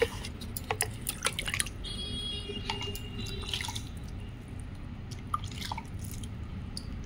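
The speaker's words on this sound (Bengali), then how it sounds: "তো এর মধ্যে এখন জল দিয়ে দিই।" Water poured onto packed soil in an indoor plant pot, heard as soft, close, intermittent trickles and drips that come in uneven bursts.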